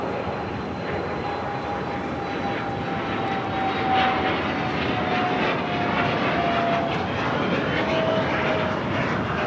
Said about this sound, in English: watch that takeoff on the north side